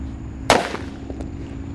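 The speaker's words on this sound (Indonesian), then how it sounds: "Lanjut kita nyalakan Disco Happy Flower yang warna ungu." A single sharp crack from a purple Disco Happy Flower firecracker, loud and close, then a brief crackling tail and a faint pop fading into steady background hum.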